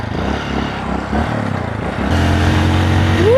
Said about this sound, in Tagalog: Ang sarap ang motor!